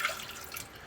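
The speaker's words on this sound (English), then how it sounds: "pour the warm water in." Warm water trickling and dripping into a bread maker pan, a brief close liquid pour with splashy hiss and no talk.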